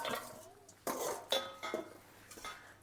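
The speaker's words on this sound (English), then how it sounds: "So now I'm going to add my rinsed and drained cannellinis and chickpeas. Just chuck them in." Rinsed and drained cannellini beans and chickpeas tipped into a pot of minestrone soup, giving a few quick clattering knocks and clinks of a metal pot and utensil, close and fairly quiet, without talk.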